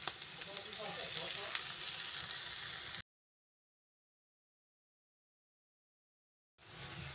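Chopped bathua greens hit hot oil in a pan, giving a steady close sizzle and crackle for about three seconds before dropping to silence, then the frying resumes briefly at the end.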